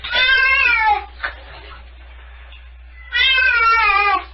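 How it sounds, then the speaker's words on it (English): A cat being bathed in warm water for fleas gives two long, loud, strained meows close up, with a short faint cry between them and a quiet pause. "cats have a meow that they only use like in cases like this where they're in water or they're in mortal terror?"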